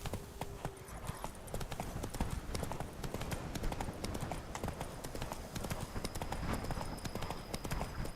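Horse hooves clip-clopping in the video game The Witcher 3: Wild Hunt, a steady rhythmic trot of many quick hoof strikes throughout, close and clear with faint background ambience.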